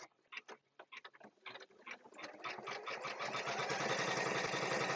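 Sewing machine stitching the seam allowance of a quilt block, starting with short stop-start bursts of needle clatter that settle into a steady, fast continuous run, close and fairly loud with no talk.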